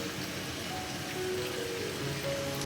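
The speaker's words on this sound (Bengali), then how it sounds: "বাইরে এদিকে না টিপ টিপ টিপ টিপ করে বৃষ্টি পড়ছে" Light drizzle falls outside, a soft steady hiss of fine rain that holds evenly through the short stretch, fairly faint and with no voices over it.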